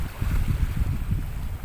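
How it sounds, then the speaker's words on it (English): Wind gusts roar across a sailboat at sea during an Indian Ocean crossing, a loud, steady rumbling buffet with no voices. "as the wind gusts up a little bit"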